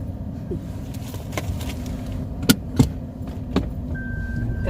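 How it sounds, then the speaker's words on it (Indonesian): A car idles and reverses out of a home driveway before the morning drive to the office, with a low engine rumble, a few sharp clicks and knocks, and a thin steady warning tone near the end. "Lagi mobilnya kita atrek."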